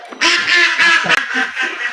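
Domestic farm ducks (desi ducks) quacking loudly and close, a dense run of overlapping nasal quacks repeating without pause.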